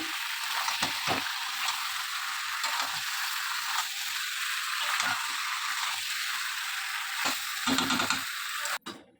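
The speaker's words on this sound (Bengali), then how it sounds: "এই যে দেখো চিকেন কষে নিচ্ছি" Chicken sautéing in a pan sizzles continuously at a moderate level, broken by recurring scraping and stirring sounds from a utensil, with no talk.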